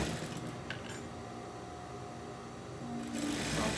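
A sewing machine runs a straight stitch to attach lace to a handmade cloth doll's dress. The motor hums steadily and evenly at close range, with no talk, and picks up slightly toward the end.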